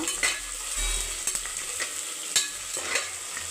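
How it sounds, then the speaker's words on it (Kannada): Cinnamon, cloves, bay leaf and onion frying in oil with mustard seeds and chana dal for capsicum rice, a steady sizzle broken by a few sharp stirring scrapes, close and fairly quiet with no voices. "ಚಕ್ಕೆ ಲವಂಗ ಪಲಾವೆಲೆ ಈರುಳ್ಳಿ ಈರುಳ್ಳಿ ಎಲ್ಲ ಚೆನ್ನಾಗಿ ಫ್ರೈ ಮಾಡ್ಕೊಬೇಕು"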